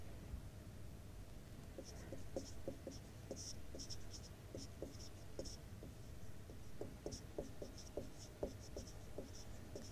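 A pen writes by hand on paper during a maths lesson, giving faint, quiet scratchy strokes in short irregular bursts throughout, over a low background hum.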